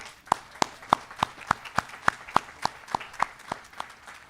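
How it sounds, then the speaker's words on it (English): Rhythmic clapping at a high school graduation ceremony, a steady series of sharp, evenly spaced claps at close range that sounds more like a few people clapping than a full crowd. "Please give yourselves a big round of applause."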